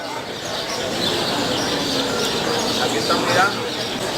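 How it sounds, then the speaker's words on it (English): Birds chirp and twitter in a steady outdoor chorus, blended with busy ambient noise and faint voices nearby. "Here's a little park. You can hear all the birds."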